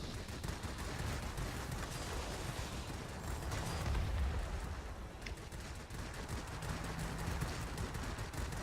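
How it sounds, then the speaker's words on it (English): Rapid aircraft gunfire from a Tier III Focke-Wulf Fw 57 heavy fighter in the World of Warplanes game, a dense continuous rattle of bursts running the whole time at steady moderate loudness with engine roar beneath. "And we are just shooting anything that gets in our way here."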